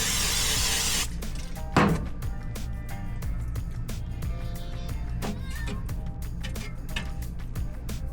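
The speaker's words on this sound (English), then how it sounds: "spray the bottom with a little bit of spray oil" A short burst of aerosol cooking oil sprayed onto chicken in an air fryer basket, a loud broadband hiss lasting about a second at the start, followed by quieter clicks and handling noises.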